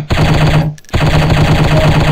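Rapid machine-gun fire in the shooting video game Striker, a loud continuous rattle of evenly spaced shots that stops briefly and then resumes.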